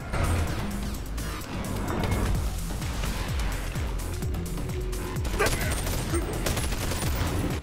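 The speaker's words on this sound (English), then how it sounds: "Alright, well, gameplay looks really nice. Shooting looks fun." Gunfire from the Bonelab VR game trailer, with rapid bursts of shots and sharp impacts layered over a dense, busy mix of action effects, loud and continuous throughout.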